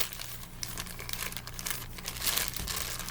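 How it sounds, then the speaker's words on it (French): Plastic bag being handled and cut with a small slit while replacing sandal insoles, close crinkling and rustling with a louder crackle near the end, no talk. "on prend un sac en plastique, on fait une petite fente ici"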